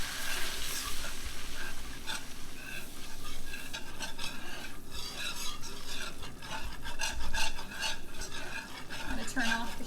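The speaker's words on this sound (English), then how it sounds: "And I start whisking." Steady scraping whisk strokes work flour through fat in a hot pan, a continuous close stir with faint sizzle and occasional metallic taps, no voices.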